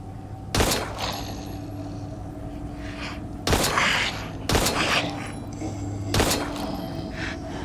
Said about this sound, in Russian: Застрелю-ка я вас на всякий случай.